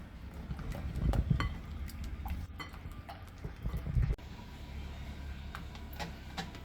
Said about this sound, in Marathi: आता हे मिश्रण चांगलं फेटून घेऊ।